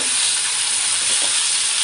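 Loud, continuous sizzling and hissing of chicken frying in hot oil with a spice tempering, close up and steady throughout, with no voices.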